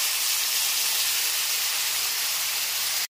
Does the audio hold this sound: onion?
yes